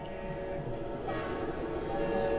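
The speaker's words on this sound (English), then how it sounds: "Oh, the train's still running." A train rumbles steadily at a distance, a low continuous rolling sound with faint tonal hum layered on top.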